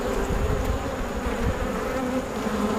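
Dense, continuous buzzing of many honeybees at a hive fills the air close by, a steady droning hum without pauses or speech.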